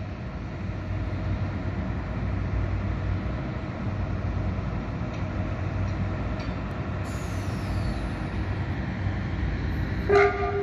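Tram-like train running near its terminus on the edge of Innsbruck below the ski jump, a steady loud rolling rumble with a brief horn toot near the end.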